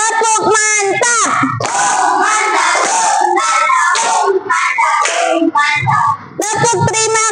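A primary school class claps in rhythm and chants together loudly, bright children's voices and sharp hand claps alternating in short bursts, with an adult voice leading.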